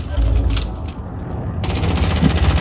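A sentry gun in Call of Duty Warzone fires a sustained rapid stream of loud, close automatic shots with a few heavier cracks, while a voice speaks over it.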